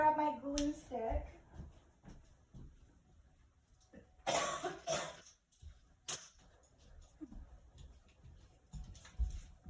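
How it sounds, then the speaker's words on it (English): A person coughs a few times in a quiet indoor craft space. The sharp bursts are separated by stretches of near silence, with soft handling noises and a few faint vocal sounds between them. "I also took that as an opportunity to cough"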